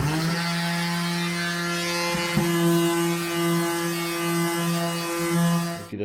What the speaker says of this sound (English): now it's time to actually get the sander out. This thing here, electric